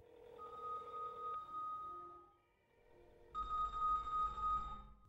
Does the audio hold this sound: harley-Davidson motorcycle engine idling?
no